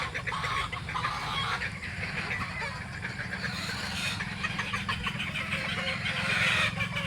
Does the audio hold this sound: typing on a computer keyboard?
no